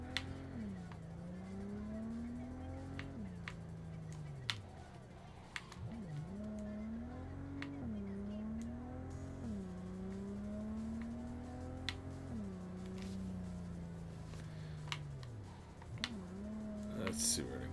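A car driven in Cyberpunk 2077 revs up and shifts repeatedly, engine pitch climbing and dropping in cycles, with sharp clicks and knocks scattered throughout at moderate volume.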